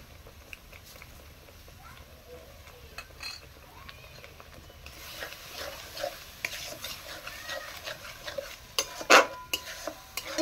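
Paneer masala is stirred and cooked down in a pan with a little water, with a spatula scraping and clinking against the metal over a low sizzle that grows busier partway through.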